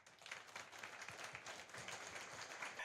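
A summit audience at a digital skills event applauds the speakers with a steady, fairly faint patter of clapping that continues evenly for a few seconds.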